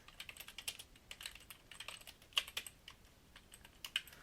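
Computer keyboard typing at close range, quick irregular keystrokes in short bursts with brief pauses and a couple of louder key hits, no voices.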